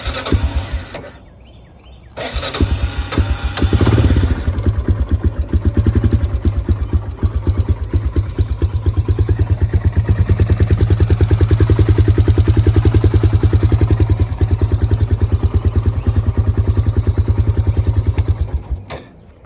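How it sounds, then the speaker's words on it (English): A 1994 Honda Fourtrax 300 4x4 ATV engine cranks briefly on choke, catches and settles into a loud, steady, rapid chugging idle nearby that runs on for well over fifteen seconds. "This four-wheeler does start right up."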